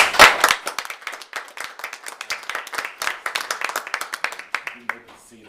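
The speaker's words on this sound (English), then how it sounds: "So I give you a round of applause." Applause at a community college board of trustees meeting starts with a loud burst, then settles into steady, fairly close clapping from a small group before fading.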